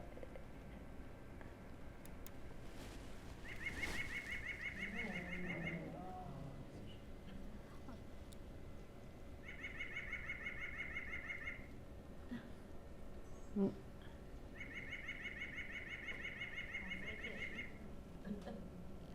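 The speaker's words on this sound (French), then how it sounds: "son chant, là, pour un petit oiseau comme ça, là, c'est un gros chant. C'est nasal" A small songbird sings a loud, nasal phrase three times, each burst lasting about two seconds with long quiet gaps between, over a faint room hum.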